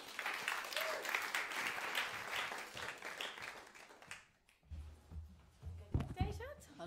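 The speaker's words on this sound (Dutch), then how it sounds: "mag ik eerst een warm applaus voor Tinkerbell?" An audience gives a warm round of applause at a live talk show event, a steady wash of clapping in the room that fades after about four seconds, followed by a voice speaking and some handling noise.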